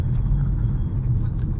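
A Toyota Innova Crysta rushes by on a road with a brief, loud, low engine and tyre rumble close by.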